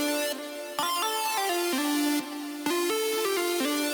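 A bright Serum synth lead in FL Studio plays a choppy complextro melody without portamento, notes jumping abruptly between pitches in a stepped, clunky pattern, rich in harmonics, loud and alone with short gaps between phrases.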